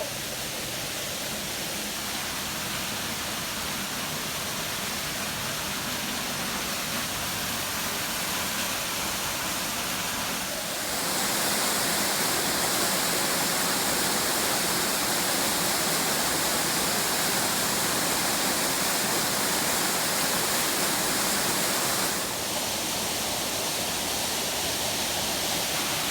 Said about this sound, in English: It's called Big Falls.